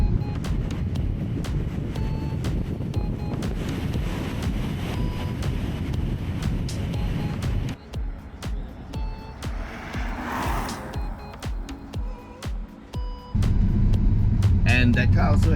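A smart#1 electric car carries out an evasive steering manoeuvre on a test track, road and wind rumble building loudly, dipping mid-manoeuvre, then surging again, with people talking throughout.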